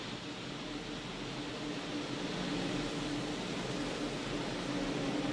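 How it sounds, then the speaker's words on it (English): Gases vent from a Falcon 9 rocket on its launch pad before a crewed launch, a continuous broad hiss heard from a distance that swells slightly over several seconds. "you could even hear some of those gases being vented over just shortly"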